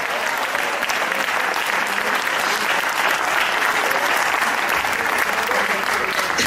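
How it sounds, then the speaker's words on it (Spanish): A church congregation claps loudly for Christ during a service. The full, sustained applause is close and continuous throughout, with faint voices blended in. "Dale un aplauso fuerte a Cristo en esta hora."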